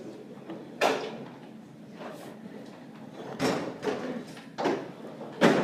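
Classroom doors are pushed shut, several sharp thuds and bangs spaced irregularly over a few seconds against a quiet room hum, with no talking.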